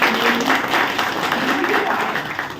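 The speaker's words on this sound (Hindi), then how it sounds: "जेके रोशन सर के लिए जोरदार तालियां होनी चाहिए" Enthusiastic audience applause at a motivational team event, a loud, sustained roar of clapping with voices mixed in underneath.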